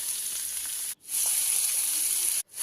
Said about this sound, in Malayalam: നമുക്കത് കുറച്ച് ഉപ്പിട്ട് നല്ലോണം വഴറ്റിയെടുക്കാം.